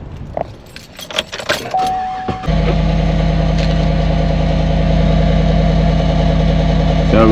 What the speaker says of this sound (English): I'm gonna start my truck up